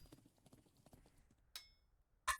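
Horses' hooves clop in a quick, light patter under game sound in Thronefall, with a few sharper bursts of noise near the end.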